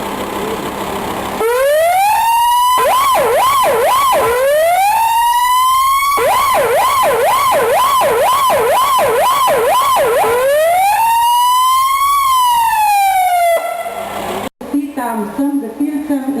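A new fire brigade vehicle for the volunteer fire company in Šmartno v Tuhinju, Slovenia, sounds a loud, close siren that alternates between slow rising-and-falling wails and fast warbling yelps, then cuts off abruptly into background noise.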